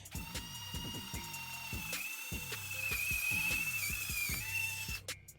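A Bosch GO 2 cordless screwdriver drills a hole through wood about 1.5 inches thick, with a series of sharp ratcheting clicks and a rising whine from the motor, close and clear.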